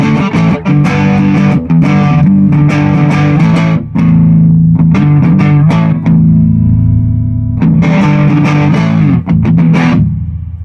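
Electric guitar played through a germanium boost pedal in a hand-built Suprotone-style box, loud and thick with overdriven sustained chords and riffs, brief gaps between phrases, with no talking.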